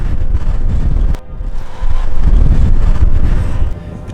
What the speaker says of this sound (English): as the wind gusts and subsides